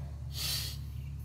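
A single sharp inhale through the nose during a kettlebell swing, brief and close, standing alone over a steady low background hum.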